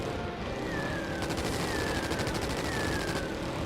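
Bombs dropped in the Wings of War video game burst and crackle in a dense, continuous barrage, mixed with rapid rattling fire and a repeated falling whistle, all loud and close.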